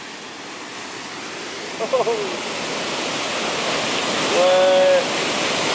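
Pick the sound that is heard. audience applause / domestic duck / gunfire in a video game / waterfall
waterfall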